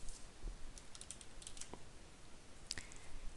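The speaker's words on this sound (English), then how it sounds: "Type in the name of the variable in the name column." Quiet, sparse keystrokes on a computer keyboard, a few soft clicks scattered over low background hiss.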